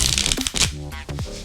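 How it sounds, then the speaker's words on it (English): Deck of playing cards being riffle shuffled, a close, loud fluttering burst of cards interleaving, followed by a few softer riffles and settling taps, with no talk. "When most people do the Riffle Shuffle, what they're gonna do is hold the deck in one hand"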